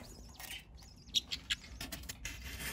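Faint, high chirps and squeaks of baby birds in a nest inside a hobby room, a few short tweets scattered over a quiet background.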